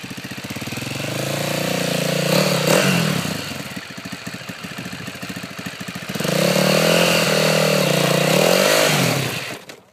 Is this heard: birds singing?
no